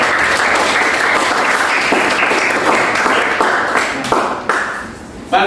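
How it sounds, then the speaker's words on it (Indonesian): Classroom applause for a student who answered correctly: a dense, loud burst of many hands clapping together, sustained and then tapering off near the end. "berikan aplaus untuk Nona"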